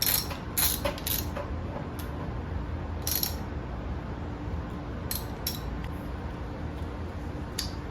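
Bolts tightened on the thermostat housing of a Mercury 50–60 HP four-stroke outboard engine, heard as quiet, sparse ratchet clicks in short bursts over a low steady hiss.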